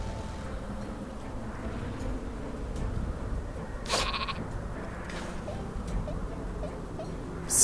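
In the Worms W.M.D. video game a sheep weapon bleats several times at moderate volume over a low rumbling game background. A sharp burst of noise cuts in near the middle and another comes at the very end.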